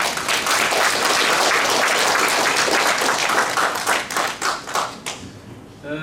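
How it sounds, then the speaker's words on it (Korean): An audience at a commemorative ceremony and seminar gives a loud burst of applause, which thins into scattered individual claps before it stops. "한번 큰 박수 한번 부탁드립니다"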